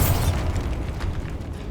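A Bombarda blasting spell goes off in Hogwarts Legacy with a heavy, booming explosion at the start that rumbles and fades into low, lingering debris noise.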